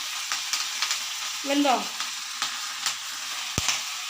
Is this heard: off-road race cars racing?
no